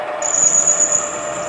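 A milling machine slotting a workpiece, a steady high-pitched cutting whine that starts abruptly and holds over a low motor hum, close and fairly loud, with no speech.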